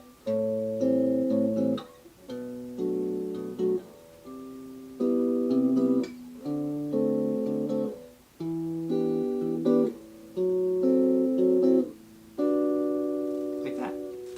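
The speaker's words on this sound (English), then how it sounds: "our chord scale in G, going across the fretboard, sounds like this." Guitar chords in G strummed one after another in a steady climbing sequence across the fretboard, each ringing briefly before the next, played alone with no voices.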